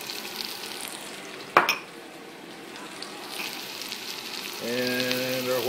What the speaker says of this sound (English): And we're just going to stir and saute this for a little bit.